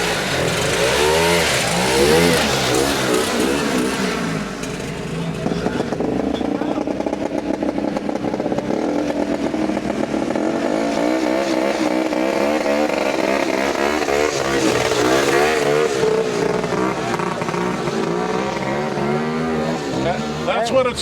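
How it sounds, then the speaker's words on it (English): Race vehicle engines rev hard at a race, with sustained loud buzzing and rising and falling revs. The engine noise runs continuously and close for the whole stretch. "That's what it's like filming at a race, Zach."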